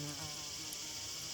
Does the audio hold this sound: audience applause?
no